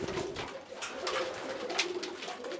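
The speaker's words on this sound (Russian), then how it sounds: "процесс кормления голубей, голубят маленьких" Pigeons coo softly and steadily while feeding their small chicks, a faint, close, continuous murmur with no talking.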